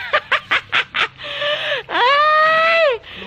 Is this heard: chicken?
yes